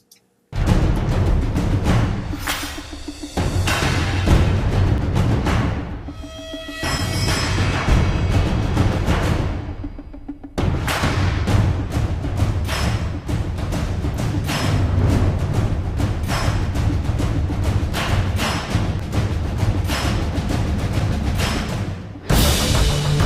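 A huge layered drum ensemble percussion section built from snare and slap samples pounds out dense, driving rhythms, loud and continuous with a few brief breaks and hits, no voices over it.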